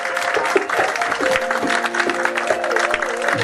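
A church congregation applauding and cheering for Jesus, dense sustained clapping from a large crowd with voices rising under it, steady and fairly loud throughout.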